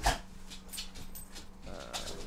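A puppy dog gives a soft whimpering whine, close and fairly faint, with a short sharp sound at the start and quiet room noise underneath.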